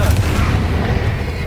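Confringo fire spell blast in the Hogwarts Legacy video game: a loud, sustained booming roar that fills the short moment without a break.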